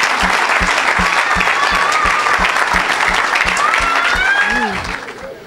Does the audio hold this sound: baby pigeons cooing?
no